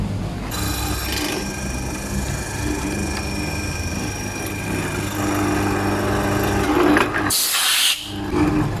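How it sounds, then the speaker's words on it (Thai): A hollow chisel mortiser cutting a square hole in wood gives a loud, steady machine whine with a strong tonal hum, running continuously, then a brief harsher burst near the end as the cut finishes. "วิธีที่ 3 ก็คือการใช้ แท่นเจาะโดยเหลี่ยมนะครับ ตัวนี้จะเจาะออกมาก็ จะเป็นช่องเหลี่ยมๆเลยนะครับ"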